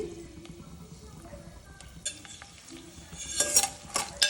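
Garlic with cinnamon, cloves, pepper and cumin fries in a pan for a mushroom sambar, with faint sizzling under scattered clinks and scrapes of a stirring utensil that grow busier toward the end.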